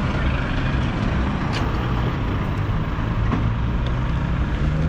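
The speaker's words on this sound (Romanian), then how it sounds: "Sufocat de trafic." Heavy city-centre traffic during Black Friday: a dense, continuous roadway roar of cars and larger vehicles, loud and unbroken throughout, with occasional faint sharper clanks standing out briefly.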